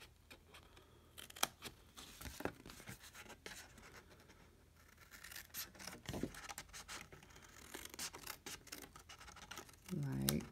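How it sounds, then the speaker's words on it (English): Scissors cut out a cardstock panel for a fancy-fold card in a box, close up, with scattered snips and scratchy paper handling throughout and a brief voice near the end. "You're going to cut this entire piece out."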